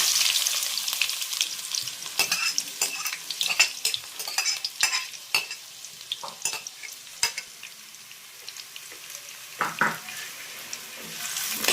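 Onions frying in hot oil with popped mustard seeds, garlic and ginger for a Kerala-style egg curry, a steady close sizzle broken by scraping stirs and spatula clinks against the pan.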